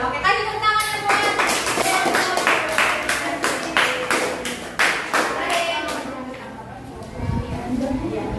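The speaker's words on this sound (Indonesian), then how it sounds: "Oke, kasih tepuk tangan ya buat." An audience gives a round of applause at a university teacher-training session, with steady, fairly close clapping that thins out toward the end, while voices are heard among the claps.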